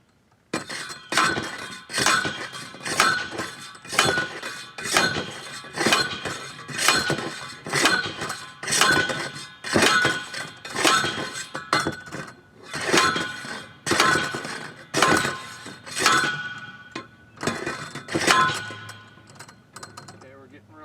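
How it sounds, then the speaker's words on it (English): Repeated hammering on metal while shoring up a leaning wooden fence: about fifteen loud, ringing clanks struck at a steady rhythm roughly one per second, close up and alone. "Banging this metal will certainly hurt, well, it hurts my ears."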